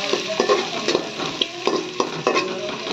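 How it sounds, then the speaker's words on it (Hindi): Chopped onions sizzle steadily in a hot pan while a spoon stirs them in repeated scraping strokes, for a prawn dal. "पियाज हवा पर्यंत भाजवा"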